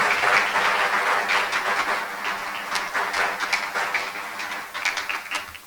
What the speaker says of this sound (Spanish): Así que vamos a darle un aplauso de felicitación